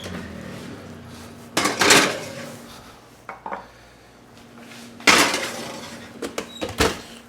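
A cake pan going into a 325-degree oven, two loud metallic clatters of pan and oven rack a few seconds apart, with a softer bump between them and small knocks at the end, close and without talk.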